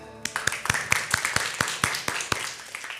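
Children give a big round of applause with a quick run of distinct, close hand claps in an irregular rhythm lasting a few seconds, bright and fairly loud with no talk over it.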